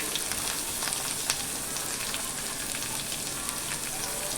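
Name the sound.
onion frying in oil with garlic and chili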